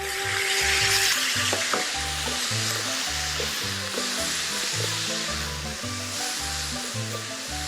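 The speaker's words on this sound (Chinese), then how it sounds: "我们就是把这个酱油淋在锅边" Soy sauce poured around the edge of a wok sizzles loudly as the filling for Hakka rice dumplings is stir-fried, with steady frying hiss and rhythmic scraping strokes of a spatula throughout.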